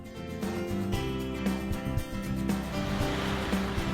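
Gentle waves wash onto the soft sandy beach of Bijindo island in a steady, continuous surf hiss, with no voices and faint tonal sounds in the background.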